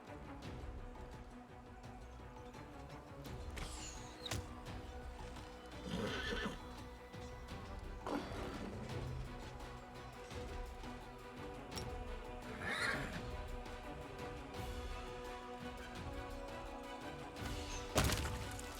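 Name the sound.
horse neighing and hooves in Pathfinder: Wrath of the Righteous video game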